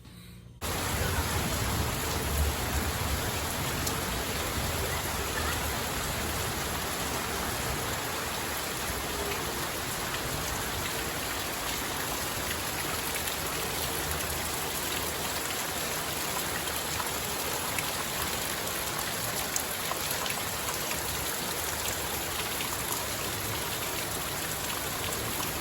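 Steady rain falls outside in Paraty, a dense, even hiss of drops on surfaces that starts abruptly and holds at a constant level with no speech.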